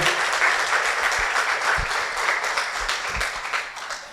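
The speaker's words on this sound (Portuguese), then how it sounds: "eu queria que você aplaudisse Jesus pela vida dele" A church congregation applauds at an evening service, with steady, full clapping close by and some low thumps underneath.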